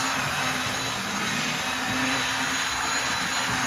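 A Mantua HO scale 4-4-0 model locomotive runs at full speed on 12 volts, giving a loud, steady whirring motor hum with a faint high whine throughout and no talking.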